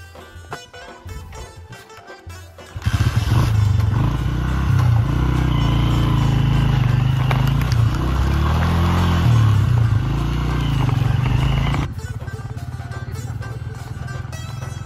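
Motorcycle riding through Yasin Valley in Gilgit-Baltistan, Pakistan: after a few seconds of quieter background, a loud close engine roar with shifting revs takes over for about nine seconds, then drops back, with voices at moments.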